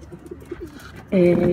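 Soft, low cooing from pigeons, a few repeated notes, then a louder, fuller burst of cooing close by near the end.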